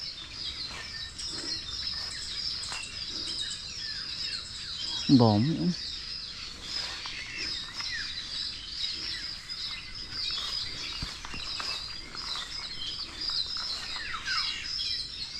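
Black-naped orioles call through a light drizzle over a lanzones harvest, high chirps repeating steadily at a moderate distance, with a brief low swooping call midway and a person talking quietly underneath.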